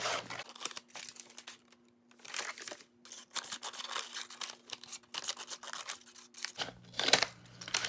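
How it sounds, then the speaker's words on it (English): Scissors snipping through paper nearby in a steady series of crisp cuts, with occasional rustling and crinkling of the paper between snips. "So just get your scissors and cut what you don't need."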